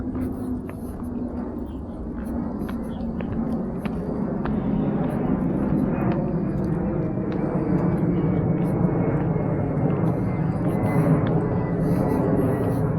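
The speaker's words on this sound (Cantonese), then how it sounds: "我哋呢邊都係飛機航道嚟，所以周時聽到飛機飛過啊" An airplane passes overhead on a flight path above a hillside hiking trail, its low engine roar swelling and holding steady across the stretch, with scattered footsteps and small knocks nearby.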